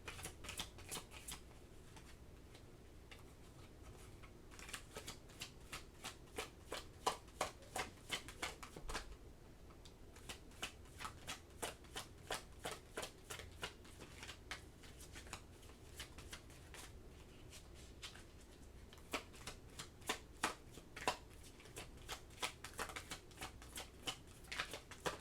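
Tarot cards shuffled by hand, close and quiet, in long riffling bursts of rapid flicks broken by short pauses, with no speech over them.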